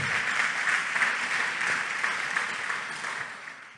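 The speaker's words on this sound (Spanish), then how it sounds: "Ahora, denle ese aplauso a Dios." A church congregation applauds during a sermon, a steady wash of clapping that fades gradually toward the end, with nobody speaking over it.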